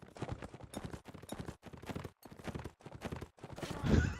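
Horse hooves clip-clopping in a medieval video game battle against the Rodok faction, repeated quick beats under busy combat noise, louder near the end.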